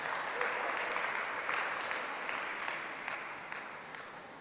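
Teammates at a school table tennis match cheer and clap, a steady wash of applause-like noise from a small group with repeated sharp accents, fairly distant and gradually fading.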